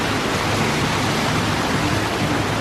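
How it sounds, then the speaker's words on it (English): A small waterfall rushes with a steady, dense, unbroken roar of falling water, loud and close with no other sounds. "Oh, pretty little waterfall."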